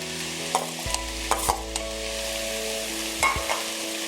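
Washed dried prawns stir-fried in a pan for a drumstick and dried prawn thoran, with sizzling, a few scraping stirs and clinks of the spatula, close and clear, no talking.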